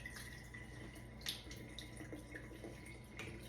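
Hands swish and scrub rice in a bowl of water with soft sloshing and occasional drips, faint and close.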